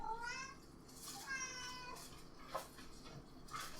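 A house cat meows several times in a home kitchen during cooking, with drawn-out rising and falling cries over soft background clatter and room noise.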